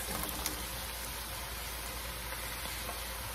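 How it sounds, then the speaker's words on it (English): Ground beef, 85/15, sautes in a pan for a three-bean chili, giving a steady, faint hiss and sizzle without any talking. "Right now I'm sauteing the beef."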